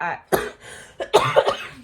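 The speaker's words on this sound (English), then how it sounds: "I've been coughing for almost 2 months now" A few short, close coughs, one then a cluster of two or three, with brief quiet gaps between them.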